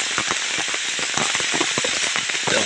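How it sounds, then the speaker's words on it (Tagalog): Heavy rain pours down in a forest during rattan planting, a dense steady patter with sharp crackling drops close by, continuous throughout without talk. "Malakas na ang ulan ay kailangan na po namin bumaba"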